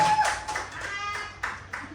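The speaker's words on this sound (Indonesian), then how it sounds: "Mana tepuk tangannya nih keluarga besar?" Scattered hand clapping from a school audience at a teacher training dissemination event, a few uneven claps at moderate distance with a tonal ringing sound in the background.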